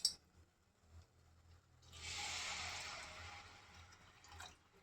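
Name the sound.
water added to crab roast masala in pan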